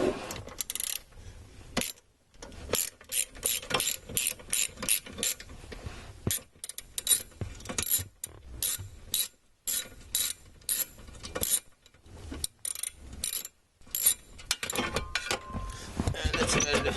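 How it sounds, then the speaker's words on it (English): A ratchet with a 10mm socket works bolts loose on a GMC Yukon, giving bursts of quick mechanical clicking broken by short pauses, close and fairly loud, with no talking. "Oh, my 10mm socket to get those off. So I got one more to go here."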